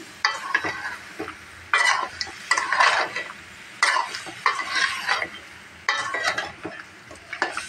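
Beef head meat with garam masala stir-fried in a pot, steady sizzling broken by repeated bursts of spatula scraping and stirring, close and fairly loud.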